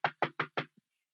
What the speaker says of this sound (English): why are you banging so heavy?